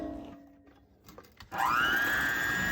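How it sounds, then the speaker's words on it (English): An electric mixer whirs into life partway through while jewelry casting investment is mixed. It runs loud and steady to the end, after a few quieter knocks and handling sounds. "Now I'm mixing the investment."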